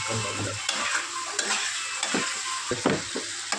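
Spices and onions being stirred and fried in a pan for a Bengali fish curry: a continuous hiss of sizzling oil with scraping spatula strokes at irregular intervals, close up, with no voices.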